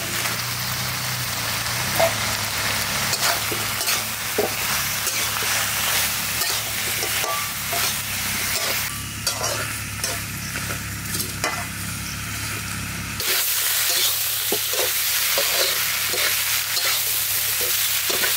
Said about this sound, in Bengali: মাংসটা অনেকটা কষানো হয়েছে, এবার দিয়ে আলু দিয়ে কষাবো